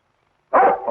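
A dog lets out one loud, close bark that trails into a short whine after a second of silence, alone with no talking, in a 1947 film scene.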